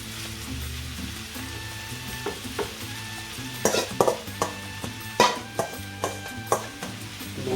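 Onions and spices for Sri Lankan seeni sambol cooking in a hot, nearly oil-free pan, a steady close sizzle broken by a run of sharp scrapes and knocks of a spoon against the pan, with no talking.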